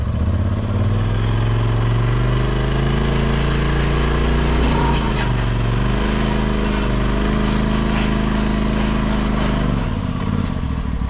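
A 2021 Polaris Pro XP 4 side-by-side on 35-inch Zilla tires with new ORB suspension revs loudly and steadily up close, the engine rising and falling as the back tires spin, then cutting off near the end.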